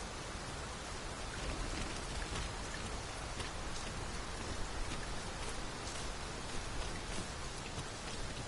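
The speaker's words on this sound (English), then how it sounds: "It is raining. Let us find cover ere the water enters our boots." Steady rain pours down in the fantasy video game Dragon's Dogma 2, a dense, even hiss of drops on the ground with no voices, holding constant throughout.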